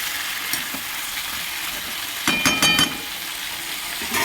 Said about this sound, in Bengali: মশলাটা সবজির সঙ্গে ভালোভাবে ভাজা বা কষা হয়ে গেছে।